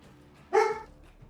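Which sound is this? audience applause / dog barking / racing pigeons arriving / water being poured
dog barking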